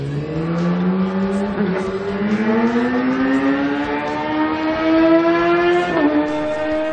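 Kawasaki ZX-10R endurance racing motorcycle, the Team SRC Kawasaki bike at the Bol d'Or 2012, its engine held at a steady high whine that climbs smoothly through the gears with brief dips at each shift, loud and close throughout.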